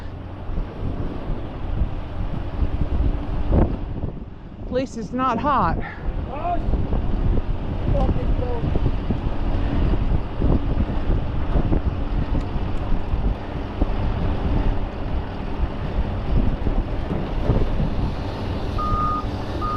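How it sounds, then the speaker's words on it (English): Strong wind buffets the microphone in a continuous low roar at a flatbed truck coil delivery, with a brief spoken remark early on and faint truck engine rumble underneath. "Man, it's windy out here."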